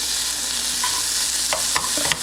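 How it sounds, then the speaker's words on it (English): Corned beef hash fries in butter in a pan with a loud, continuous hissing sizzle, while a utensil scrapes and stirs it in a few short strokes near the end. "So we're gonna be cooking some corned beef hash."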